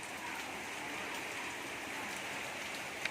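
Steady rain pours down without a break, a dense, even hiss of drops striking surfaces close by, holding at one level throughout with a single sharp tap near the end.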